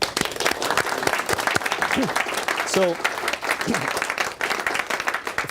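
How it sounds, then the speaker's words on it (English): Audience applause fills an indoor talk or seminar, dense and steady clapping from a crowd with a few voices calling out over it. "Round of applause."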